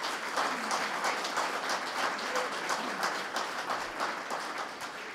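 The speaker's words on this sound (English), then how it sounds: "A round of applause." An audience at a community archives grand opening claps in a sustained round of applause, moderately distant and fading slightly at the end.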